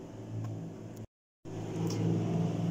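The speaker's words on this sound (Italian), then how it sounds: "Si sente il rumore del trattore, ragazzi." A tractor mowing grass drones steadily nearby at mid pitch, briefly cutting out for a moment before resuming with a low, rumbling whir.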